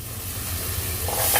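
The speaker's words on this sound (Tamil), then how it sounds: "வெங்காயம் தக்காளி பூண்டு நல்லா வதங்கிடுச்சு" Onion, tomato and garlic sauté in a hot pan for a vathakulambu, giving a steady, close, hissing sizzle throughout the short moment without any voices.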